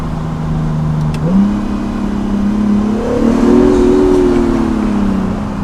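An Acura NSX accelerating under a bridge, heard from inside the cabin: a steady engine drone climbs in pitch as revs build, echoing slightly, loud and close without anyone speaking.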